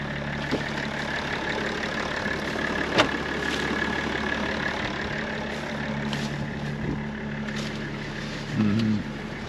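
A Land Rover Defender 130 engine runs at a steady idle with a low continuous rumble beneath people talking nearby, broken by a few knocks and a brief louder burst near the end.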